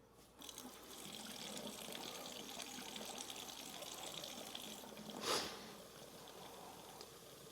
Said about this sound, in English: we're going to run the cold water and the hot water until they both run pink